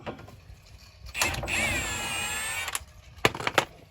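Brake caliper bolts being removed from a Honda Element: a sustained mechanical whir or ratcheting runs for about a second and a half mid-clip, followed by a few sharp metallic clicks and knocks near the end, close up with no talk.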